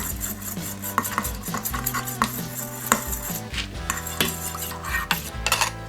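A batch of Bluebonnet-scented cleansing bar mix is stirred in a container, giving continuous close scraping and clinking with sharp utensil taps against the sides and no talking.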